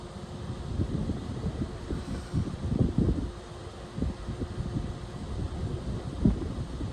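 Gusty outdoor wind in New Mexico buffets the microphone in uneven low rumbling bursts, peaking around the middle and again near the end, with no talk over it.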